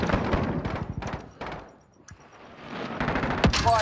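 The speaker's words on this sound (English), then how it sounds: "guys are firing on me" Bursts of rapid automatic gunfire in the video game Warzone, loud and close, easing off briefly before resuming, with a sharp sweep near the end.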